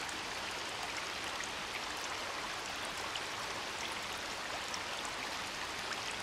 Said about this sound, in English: just like water pouring somewhere